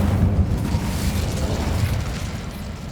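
Fire spell Incendio cast in Hogwarts Legacy, a loud sustained roaring, rumbling blast of flame lasting a few seconds, dense and low-heavy with no voices over it.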